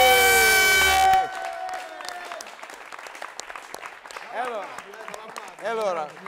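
A sustained musical chord cuts off, then a crowd applauds steadily, clapping spread across a room, with a few voices and whoops rising near the end.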